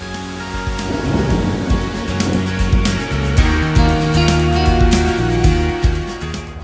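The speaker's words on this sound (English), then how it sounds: "Just a wee rumble of thunder." Thunder rumbles low and heavy through steady rain falling by the River Ribble, with raindrops pattering on nearby surfaces and the rumble swelling and fading over several seconds.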